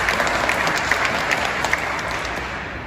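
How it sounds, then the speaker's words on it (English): An audience applauding at a live debate event, dense steady clapping from a crowd that gradually tapers off, with no talk over it. "So they're clapping."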